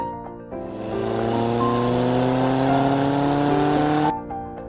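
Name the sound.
car engine starting and driving off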